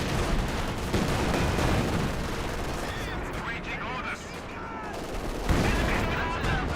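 Battle sounds from the video game Company of Heroes 2: a Katyusha rocket barrage and rattling gunfire crackle in dense, overlapping bursts, with a commentator's voice running over the din.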